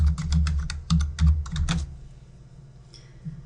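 Rapid keystrokes on a computer keyboard typing text, a quick burst of close, crisp clicks for under two seconds, then a quiet pause.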